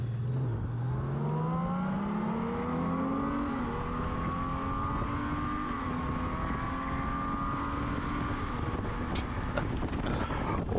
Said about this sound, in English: Just listen to this bike, guys.